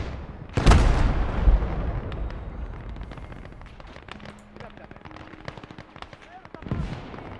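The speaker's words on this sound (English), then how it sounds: "that artillery piece is doing nicely" Artillery fires in the wartime strategy game Blood Red Snow: a loud, close boom opens, followed by rumbling echoes and scattered smaller battle cracks, then another blast near the end, with someone talking over it.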